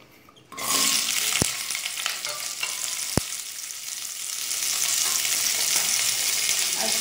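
Cauliflower florets fry in a pan with salt added, a steady loud sizzle from start to finish with a couple of sharp utensil clicks, close and alone with no talking.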